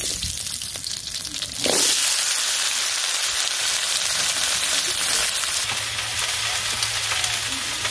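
Vegetables and fish hit hot oil in a pan with a sudden loud burst of sizzling that settles into a dense, steady frying hiss, close and continuous.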